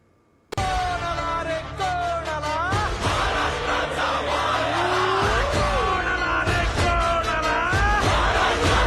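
A large crowd at a Thackeray Shiv Sena rally roars, whoops and chants slogans loudly and continuously, with sharp yells rising above the din from start to finish.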